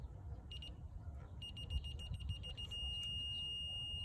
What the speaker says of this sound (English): a steady beep when you're right on